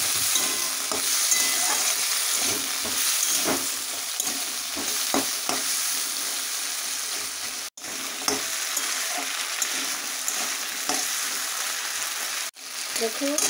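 Cut potatoes frying in a pan with oil, whole cumin and bay leaf, a steady crackling sizzle broken by repeated scraping, clattering stirs close up, with occasional speech in the background.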